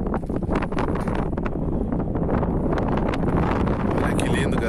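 Strong wind buffets the microphone in an open spot in the Andes mountains, a steady roaring rush with gusty rustling that stays loud and close the whole time.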